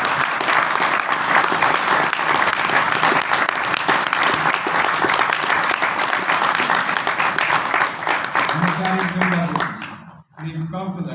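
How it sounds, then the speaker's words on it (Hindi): Loud, sustained applause from an audience at a Buddhist talk on the bodhisattva's four vows, steady clapping for about ten seconds before fading, followed by a brief voice near the end. "उनके नाम की आप जोर से ताली दीजिए"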